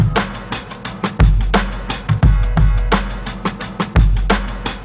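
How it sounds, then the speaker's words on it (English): A hip-hop drum loop in FL Studio, pitched down one semitone, plays alone: heavy booming kicks and sharp snare hits repeat in a steady, looping groove with bright hi-hat ticks. "the first thing we're going to do is bring down the pitch by 1 semitone"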